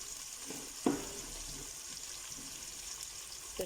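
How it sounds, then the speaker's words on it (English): Mutton sizzles steadily in a hot pan as it is stirred for a bunny chow with thick gravy, a faint, constant hiss with a soft scrape of the spoon near the start and no voices. "This should fry for about 3 minutes. Just keep on stirring it a bit, guys."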